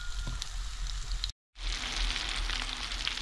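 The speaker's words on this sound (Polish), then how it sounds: "I smażymy." Loud, steady sizzling of breaded parasol mushrooms frying in hot oil, with a brief cut to silence partway through before the crackling resumes.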